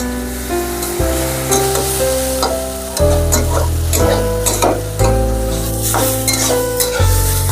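Taro flowers fry and get stirred in a pan with green chilli, turmeric and salt, giving a loud, close, continuous sizzle with scraping stirs and repeated pan knocks every second or two.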